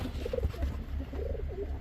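A pair of silver pigeons, a cock and hen, cooing softly in a coop, with low repeated coos spread across the moment and no speech.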